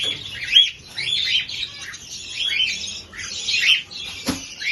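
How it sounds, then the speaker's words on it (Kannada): Pet birds in a home aviary, including conures and cockatiels, screech and chirp in repeated loud bursts that come and go throughout, with brief flapping near the end and no talking. "ನೋಡಿ, ಆಳೆಯಿಂದ ಬರ್ಡ್ಸ್ಗಳು ಕಿರ್ಚಾಡ್ತವ್ರೆ"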